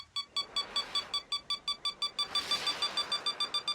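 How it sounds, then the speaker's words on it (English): The indirect fire warning in Company of Heroes 3 sounds as a rapid series of about twenty short, evenly spaced electronic beeps. The beeps are clear and moderately loud over a faint background. "Indirect fire! Big old beeping noise."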